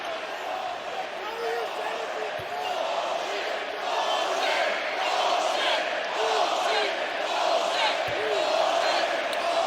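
An arena crowd at a Florida vs Georgia college basketball game roars and jeers steadily after a foul, a dense sustained wall of voices with an announcer talking over it and occasional sharp thuds.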